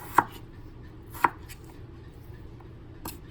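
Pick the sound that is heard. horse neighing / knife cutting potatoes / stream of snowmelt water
knife cutting potatoes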